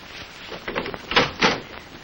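Front door of a house being opened, a short run of clattering thumps and a couple of louder latch-and-swing knocks within two seconds, close and alone.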